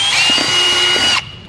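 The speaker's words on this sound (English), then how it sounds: "They have a .375 drill bit, really just kind of making a mark here." Power drill with a .375 drill bit marking a base plate template for a 2018 Jeep JL Wrangler, a loud, steady high-pitched whine that stops abruptly.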